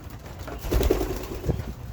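Pigeons coo softly and repeatedly nearby, low throaty calls over a constant background hum.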